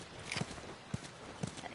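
Horse hooves clip-clop in The Last of Us video game, three evenly spaced, moderately close hoofbeats on a quiet background with no talk.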